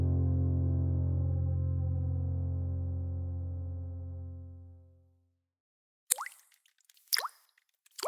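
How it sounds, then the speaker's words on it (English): A leaky shower head in a rental bathroom lets single water drops fall, two or three separate plops spaced about a second apart, sharp and close, after a long fading low tone. "That sound is the leaky shower head that came with your rental."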